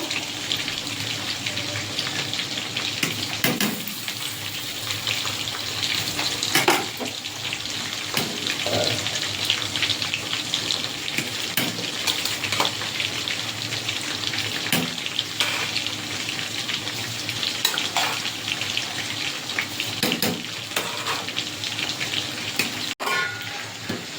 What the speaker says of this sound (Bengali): জল ফুটে গেছে, চালটা দিয়ে দেবো।